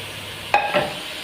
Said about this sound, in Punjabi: ਹੁਣ ਤੜਕੇ ਵਿੱਚ ਪਾਵਾਂਗੇ ਸੋਇਆ ਕੀਮਾ